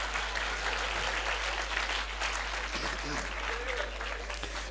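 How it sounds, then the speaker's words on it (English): An audience at a live youth event in Ghana claps continuously and densely, a dense steady applause with faint voices mixed in beneath it. "Let's clap for him."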